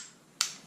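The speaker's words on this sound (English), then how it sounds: "Test fire." A single crisp trigger click from a Canik TP9SF pistol dry-fired as a function test, short and close against a quiet background.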